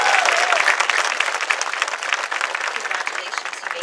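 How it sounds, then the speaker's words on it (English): A large audience applauds at a 2024 high school graduation ceremony, a dense, sustained wash of clapping from many hands that fills the room and tapers slightly toward the end. "Let's give them a round of applause."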